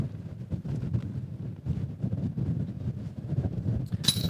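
Wind gusting across an outdoor disc golf course, a steady rough rumble of microphone buffeting with surges and dips, loud and close, no voices.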